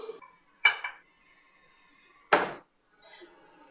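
Dry chickpeas tumble into a blender jar in two separate clattering pours of hard little knocks and clinks, close by, with a short faint rattle at the end.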